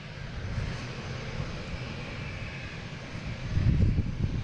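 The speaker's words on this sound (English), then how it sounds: "JetBlue flight 1620, heading to London Heathrow," JetBlue Airbus A321neo jet leaving Boston Logan for London Heathrow, a steady broad engine roar at moderate distance with a deeper rumble swelling near the end.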